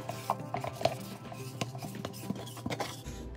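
A utensil stirs whole milk and yogurt together in a pot, giving soft, faint clinks and scrapes at an irregular pace, close but quiet.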